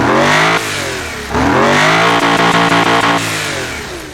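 A dragster van engine revs hard and loud nearby, surging in two long bursts with a rasping, harmonic-rich roar and brief drop between them.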